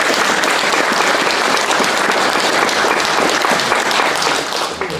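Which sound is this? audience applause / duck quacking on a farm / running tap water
audience applause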